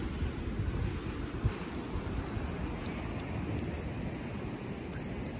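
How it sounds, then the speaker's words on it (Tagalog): Ocean surf rolls steadily onto Ubara beach in Japan, a dense, continuous roar of breaking waves mixed with wind buffeting the microphone, with no voices. "ang ganda ng alon"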